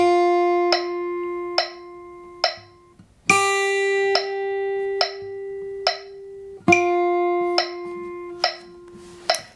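A metronome set to 70 beats per minute in four beats per measure ticks alongside sustained tonal notes, each bar marked by a brighter accented first beat followed by three lighter clicks.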